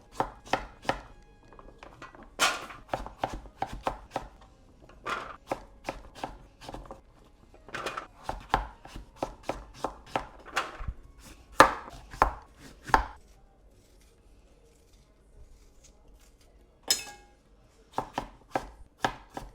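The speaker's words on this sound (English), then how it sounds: "So peel and then chop up. Just like an inch size cubes, really." Squash is chopped into inch-size cubes for a roasted squash and chickpea curry, sharp knife strikes on a board in quick bursts with brief pauses, close and crisp, no talking.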